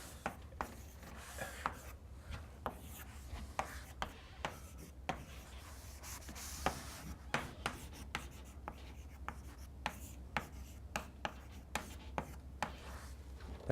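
Chalk or marker taps and scratches on a board during a university lecture, a steady run of short sharp strokes every fraction of a second over a low room hum, with no talking.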